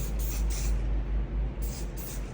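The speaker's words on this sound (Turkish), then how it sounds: "Saçımızın yönüne göre spreyimizi sıkar isek saçlarımızda asla tülek olmayacaktır." Hairspray from an aerosol can sprayed onto hair while styling a low bun, several short hissing bursts close by with brief gaps between them.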